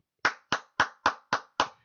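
Six sharp hand claps in an even, measured rhythm, each crisp and close with a short decay, heard alone with no talking.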